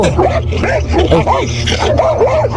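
A dog barks and yips in quick excited bursts, close by, while people shout over it.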